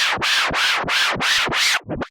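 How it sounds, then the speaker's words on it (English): Baby scratch on a Hercules DJControl Inpulse T7 premium controller: six quick back-and-forth record sweeps in steady rhythm, each a rising and falling whoosh, ending with a shorter clipped pair, loud and close with no voices. "So that is the baby scratch"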